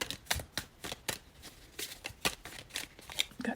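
Cards being shuffled and drawn for a reading: a string of quick, soft riffling bursts and flicks in uneven rhythm, quiet and close, with no talking.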